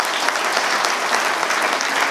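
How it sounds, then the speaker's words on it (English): Steady audience applause filling the whole stretch, dense and continuous clapping from a crowd at a rugby fans' forum event, with no talking over it. "so a huge round of applause if you wish him well"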